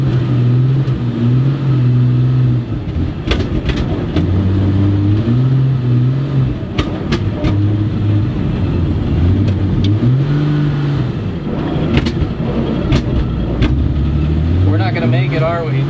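A 1963 Chevy C10 pickup's engine revs and strains as the truck tries to climb a hill, loud and continuous with rising and falling pitch, while people talk over it throughout.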